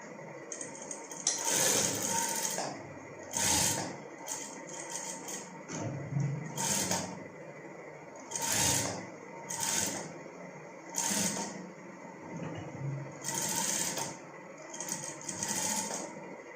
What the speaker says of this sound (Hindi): और अब हम सिलाई लगाएंगे।